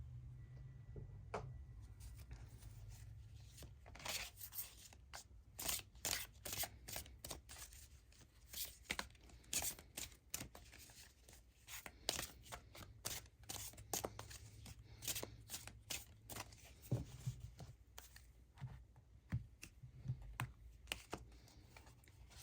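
Tarot cards from a gothic-style deck are shuffled and drawn, a dense run of quick papery riffles, flicks and snaps close to the mic with no voice.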